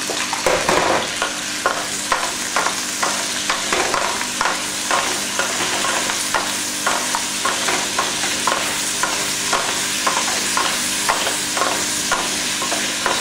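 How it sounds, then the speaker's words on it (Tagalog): Tomatoes for pinakbet stirred in a frying pan, a loud close sizzle with repeated rhythmic scraping strokes of the spatula, with no speech. "So, haluin lang po natin."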